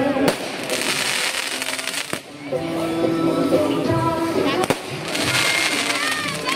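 Fireworks burst and crackle at a Dussehra celebration in Prem Nagar, Jhansi, with repeated pops and sharp cracks over a steady hiss, while crowd voices carry on throughout.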